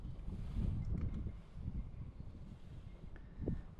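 Wind blows across a small fishing boat on open water, a steady buffeting roar with gusty bumps against the microphone, and no one talking.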